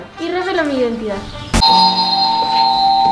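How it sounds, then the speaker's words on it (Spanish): An indoor doorbell chimes at close range, a two-tone ding-dong that starts partway through and then keeps ringing on without stopping, coming right after a man's speech. "escucha, que ese es el timbre de dentro, no el de afuera."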